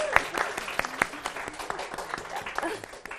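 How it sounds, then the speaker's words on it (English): Audience applause for members of a Christian youth fellowship at a live mental health panel, scattered claps of moderate loudness with a few sharper individual hits over a steady background. "So round of applause for these girls as well."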